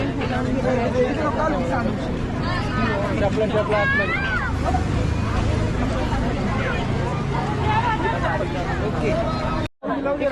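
A Sunday crowd at Shirgaon Sai temple fills the air with dense, close babble and overlapping chatter, with individual voices rising out of a constant hubbub.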